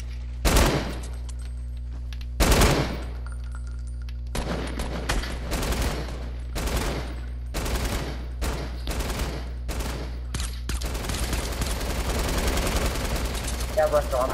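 Light machine gun fire in the battle royale game Fortnite: two loud separate bursts early, then a run of shorter rapid bursts with steady background game noise underneath.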